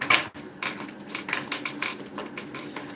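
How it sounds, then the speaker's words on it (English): Tarot cards being shuffled, giving a dense run of rapid riffling clicks and soft slaps in uneven bursts, close by and steady throughout, with no voices. "I'm going to keep shuffling for cards and see what I get for you guys."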